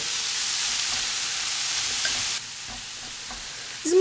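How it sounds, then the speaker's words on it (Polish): Shredded cabbage sizzles and hisses steadily in a hot pan, the frying dropping slightly quieter midway, with a soft clink near the end. "I chwilę ją podsmażam."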